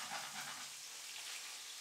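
Meatballs frying in a pan, a soft steady sizzle with faint crackling, heard close and quiet for a couple of seconds.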